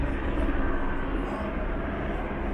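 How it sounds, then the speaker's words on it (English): Helicopters circling over a city street protest near Calvert Avenue, heard as a constant broad low rumbling drone at a distance, steady in level with no clear breaks. "See all those helicopters right there."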